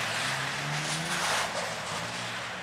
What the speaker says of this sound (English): He's doing donuts.